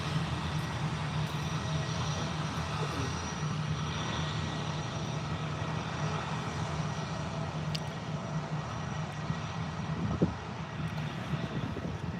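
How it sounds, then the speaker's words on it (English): An EasyJet Airbus A320 departs Birmingham airport bound for Larnaca, a steady, broadband engine roar holding level throughout, moderately distant, with some wind noise. "It's just EasyJet A320 214 heading out over to Larnaca"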